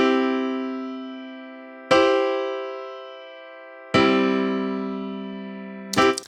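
Three sustained C major chord voicings in different inversions, each struck cleanly and left to ring and fade, followed by a short cluster of tones at the end; the sustained tones sound more like an instrument than sung voices.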